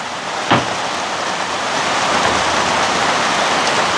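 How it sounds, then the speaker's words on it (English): Heavy rain beats down on the zinc roof of a cabin as a dense, loud, unbroken hiss, with a single sharp knock near the start. "listening to the rain beating"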